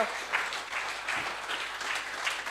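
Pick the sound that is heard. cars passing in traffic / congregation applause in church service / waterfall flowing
congregation applause in church service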